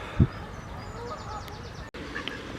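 A duck gives one loud honking quack near the start in a park in April, then only faint outdoor background remains.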